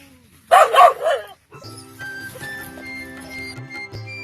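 Guard dogs stationed in a mango orchard bark in a loud, close burst of several overlapping barks, then fall quiet as a steady background tone continues.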